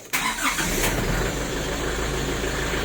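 A JAC Queen with a check-engine fault and an RPM-limiting low-power mode cranks and catches within a split second, then settles into a steady, loud, close idle.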